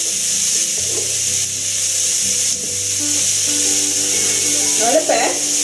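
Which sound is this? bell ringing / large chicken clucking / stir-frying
stir-frying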